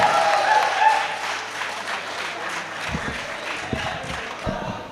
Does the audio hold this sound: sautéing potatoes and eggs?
no